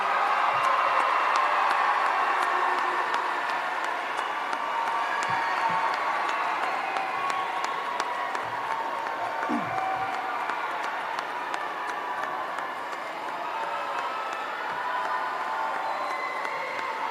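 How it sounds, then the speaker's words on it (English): Audience applauds steadily at a high school commencement ceremony, a dense, sustained wash of clapping from a large crowd that holds level for the whole stretch without talk. "Give them a round of applause for all the support they've given you on your way."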